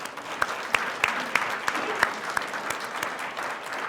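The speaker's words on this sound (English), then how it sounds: "So let's give Phil another round of applause." Audience applause for a speaker at a caregivers' talk, a steady wash of clapping from a sizeable crowd with a few sharp, close claps standing out, continuous throughout.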